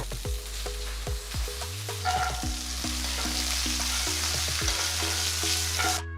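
Steady oily sizzle of peanuts frying with dried chillies and curry leaves, with a spoon scraping and stirring through the pan in repeated strokes, close and continuous.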